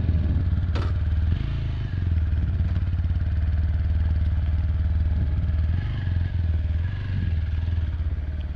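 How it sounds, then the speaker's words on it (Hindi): A 2022 TVS Apache RTR 160 4V BS6 motorcycle engine idles close by with a steady, loud low putter, a brief dip in tone, a short clatter early on and no speech. "तो बाइक फाइनली स्टार्ट हो चुकी है।"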